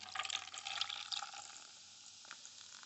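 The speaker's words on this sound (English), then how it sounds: "So I got some ice, and I'm gonna pour it in." Jocko Go Afterburner Orange drink poured over ice into a red plastic cup. A close, fizzy splashing pour lasts about a second and a half, then dies away to faint crackling.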